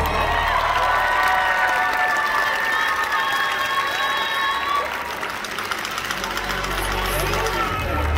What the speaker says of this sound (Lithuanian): Kiek jūsų aplodismentų sulauks pora numeris 39